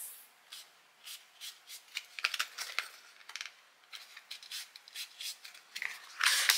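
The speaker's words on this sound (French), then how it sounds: "Alors on va plier." Scrapbook paper being folded for a Golden Days album structure, a close series of dry rustles, creases and rubbing scrapes in irregular bursts, quiet and without talk.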